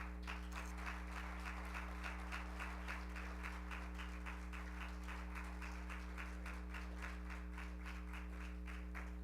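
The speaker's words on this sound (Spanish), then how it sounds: "Un aplauso al Señor." A church congregation applauds together, a steady even round of clapping lasting several seconds, faint and distant over a constant low electrical hum.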